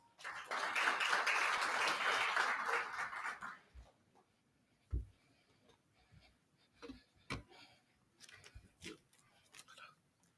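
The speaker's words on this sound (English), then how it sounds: "Please give him a round of applause." A short burst of audience applause at a formal launch event, loud for about three seconds then dying away, followed by scattered faint knocks and small room noises.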